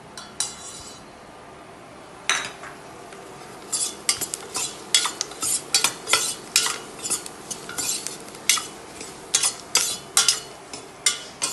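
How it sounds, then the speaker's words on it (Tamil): Chopped onion being stirred and sautéed in a pan for tomato soup: a spoon scrapes and clinks against the metal in quick irregular strokes over a faint sizzle, close and clear, without talk. "வெங்காயத்தை போட்டு நல்லா வதக்குங்க."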